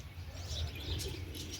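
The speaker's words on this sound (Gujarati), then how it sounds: "મસ્ત કબૂતર" Pigeons coo softly in a sunny village courtyard where clothes are hung to dry, a low murmuring call over a faint outdoor background with light chirps.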